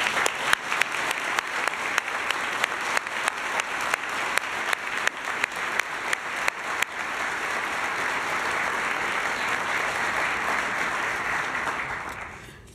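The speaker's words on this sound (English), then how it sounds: "Let's give them a big round of applause." Sustained audience applause at an anti-racism award ceremony, with sharp rhythmic claps standing out early, then settling into a dense, steady wash of clapping that fades out at the end.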